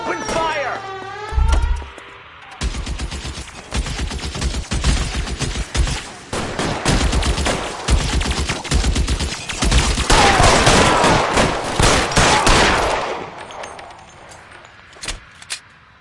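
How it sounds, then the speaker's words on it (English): Gunfire in the video game L.A. Noire: a loud, dense fusillade of rapid shots rattles through most of the passage, with engine and car noise mixed in, then fades to a quieter tail. "Open fire!"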